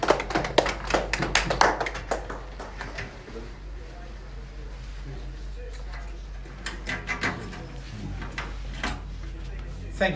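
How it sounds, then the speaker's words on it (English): A small group applauds with quick scattered hand claps at the start during a team visit to the Bradman Museum, followed by a few isolated claps later over quiet room ambience. "Let's clap."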